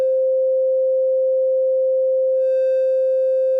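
A steady electronic sine tone holds at one pitch, then takes on a buzzier, distorted edge toward the end as the Flattener plugin clips it.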